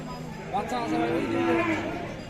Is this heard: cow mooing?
yes